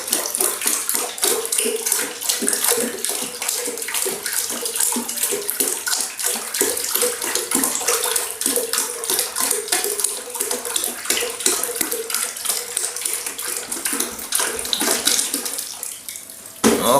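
Liquid pours steadily and loudly into a laundry soap mixture, another 5 liters added in a continuous, close splashing gush that runs without a break for the whole stretch.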